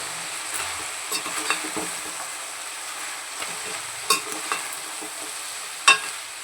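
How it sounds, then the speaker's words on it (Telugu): Mutton keema with turmeric sizzles softly while a spoon stirs it in a pan, with occasional sharper scrapes and one loud clack near the end. "పసుపు వేసిన తర్వాత బాగా అయితే మిక్స్ చేసుకుంటున్నాను"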